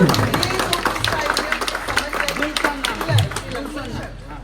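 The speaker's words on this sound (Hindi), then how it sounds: "ताली बजाएंगे, ताली बजाएंगे" Guests at a gathering at an IVF clinic clap in a dense, fairly loud patter of hand claps that slowly thins out, mixed with chatter and voices speaking over it.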